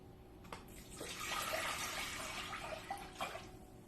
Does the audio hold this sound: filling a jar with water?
yes